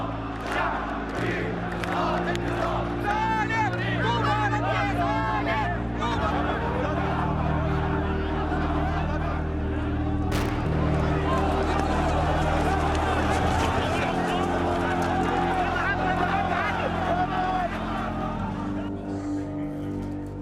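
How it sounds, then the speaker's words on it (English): A large crowd of protesters fills a Cairo square during the revolution, a dense, continuous roar of chanting and shouting voices, loud and sustained throughout, with a voice talking over it. "In the square, the crowds are growing and the tension is mounting."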